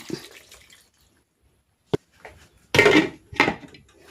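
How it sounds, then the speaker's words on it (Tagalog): Water is added to a cooking pot holding wrapped kamote (sweet potato) suman: a soft drip, then a brief clatter and a louder splashing pour in two short bursts, close by with no voices. "Maglalagay na ako dito ng tubig."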